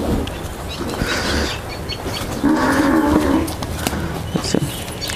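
A dairy cow lets out a long, loud, close moo in the middle of a farm setting, with other lowing and faint background noise around it.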